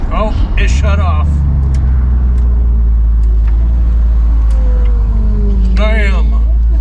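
A Chevrolet crew cab truck engine struggles for fuel, giving a loud, steady low rumble close by, with brief voices over it near the start and end.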